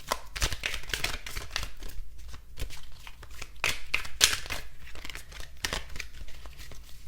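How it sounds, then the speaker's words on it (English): A tarot card deck being shuffled by hand, quick papery riffles and slaps repeating in an irregular rhythm, close and fairly clear. "when I'm shuffling this extra tarot deck, it feels really weird"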